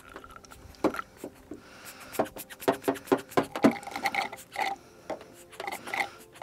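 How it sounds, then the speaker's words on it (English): A brake bleeder sucking fluid out of a Toyota-style clutch master cylinder during a Lexus IS300 1UZ swap, with close, irregular scratchy slurping and rubbing pulses and some clicking, alone with no talk. "I'm going to use my brake bleeder to suck out the fluid from here"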